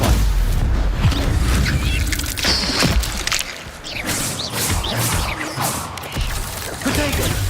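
Stupefy spells cast in combat in Hogwarts Legacy, repeated loud booming magic impacts with whooshes and crashes in a busy game fight, a voice shouting spell names.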